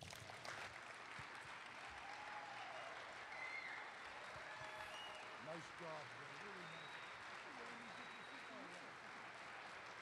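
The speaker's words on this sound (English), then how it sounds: "big round of applause for him" An audience at an athletics hall of fame induction ceremony breaks into sustained applause that fills the hall, with a voice speaking over the clapping.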